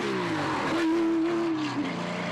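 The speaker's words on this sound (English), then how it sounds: "This is the spectacular Porsche of the Kok" A historic Porsche rally car on the Haspengouw Rally in Belgium screams past at speed, its engine note climbing to a loud sustained whine, then dipping briefly as it shifts, close and alone.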